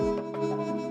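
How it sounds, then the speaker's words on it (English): Music processed through the RC20 plugin's worn vinyl effect at full strength, like a record played far too many times; a dense, steady tonal bed with a low sustained hum and soft smeared swells, no voices. "Like a vinyl which has been played way too many times."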